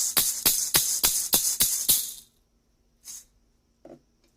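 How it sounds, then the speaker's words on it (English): Shaman's rattle decorated with a hummingbird and lotus, shaken in about seven rhythmic bursts of bright rustling, close and clear, then a single softer shake and a faint tap after a pause, no talking. "we have my Shaman's Rattle with the hummingbird and lotus on it."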